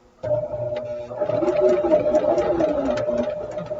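A sewing machine stitches quilt fabric strips together, starting abruptly and whirring at a steady, close, mechanical hum for a few seconds.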